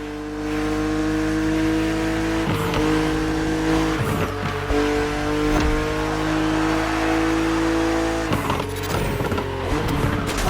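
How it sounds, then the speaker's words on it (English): A BMW Z roadster, a two-seater, races in The Crew Motorfest with a loud, close engine drone that holds steady pitches and rises through gear changes, with brief tire squeals. "BMW Z models are what we call roadsters. Two-seaters made for relaxing behind the wheel, appreciating the scenery and the thrill of speed."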